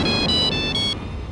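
A mobile phone ringtone plays a bright, repeating electronic melody in steady stepped notes, fairly loud and close, with no voices.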